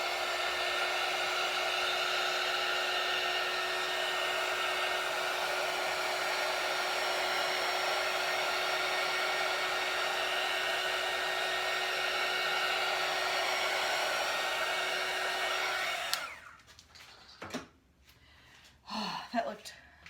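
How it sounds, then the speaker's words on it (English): A heat gun blows on a neon pink and white acrylic Dutch pour paint, making a loud, steady, close whirring roar for about sixteen seconds before it cuts off, followed by quieter handling noises and a voice. "Now we're gonna hit it with the heat gun."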